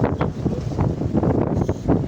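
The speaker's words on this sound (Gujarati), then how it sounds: "એવો પવન લાગે છે" Strong wind buffets the microphone in repeated gusts, a rough, rumbling whoosh that rises and falls every fraction of a second.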